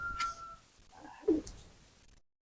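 A racing pigeon gives a faint, brief coo amid quiet rustling handling noise, with a few soft chirpy bits around it and no talking over it.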